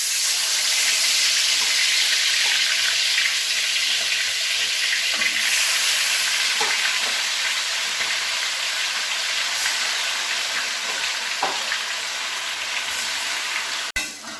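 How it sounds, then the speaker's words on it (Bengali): Chicken pieces marinated in yogurt and spice powders frying in oil for Kolkata restaurant-style chicken chaap, a loud, steady sizzle holding throughout with occasional soft clicks and a brief knock near the end. "দেখুন আমি এই যে তেলে ছেড়ে দিয়েছি সবটা মাংস।"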